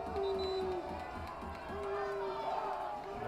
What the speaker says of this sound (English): The referee met with many boos from a strong home crowd tonight here in Sarasota.